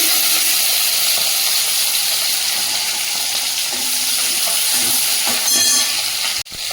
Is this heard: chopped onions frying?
yes